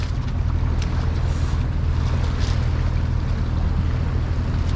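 A small motorboat out at sea in the Balearic Islands gives a steady, loud, close engine rumble mixed with rushing water and wind buffeting the microphone, continuous throughout with no voices.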